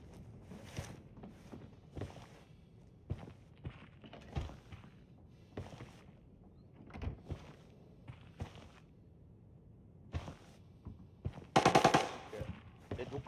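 Gunfire in the military shooter Arena Breakout, with sparse sharp shots scattered through the stretch and a denser, louder burst near the end, alongside footsteps and movement noises at moderate volume.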